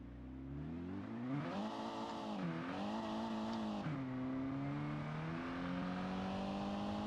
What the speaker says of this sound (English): That's some intense wheel spin.